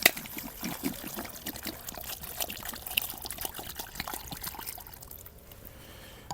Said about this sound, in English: Unfiltered tap water because I'm boiling it anyways.